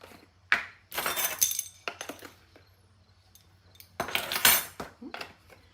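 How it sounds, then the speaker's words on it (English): Dry rub spices, including onion powder, are mixed in a bowl for a smoked turkey breast, making a few bursts of scraping and clinking utensil sounds separated by quiet pauses. "Then I'm just gonna mix this up"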